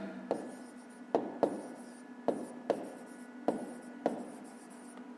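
Pen or pencil writing a fifth-grade math solution by hand on paper, with quiet steady scratching strokes broken by sharp taps every second or so, close and without talk.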